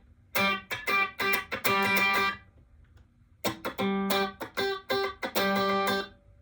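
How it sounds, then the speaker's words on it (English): A Fender Stratocaster electric guitar on its bridge pickup plays bright, overdriven chords in quick choppy upstroke bursts, loud and close, with a short silent gap in the middle before the rhythmic strumming resumes. "Okay, I'm on the Strat. I'm on the bridge pickup."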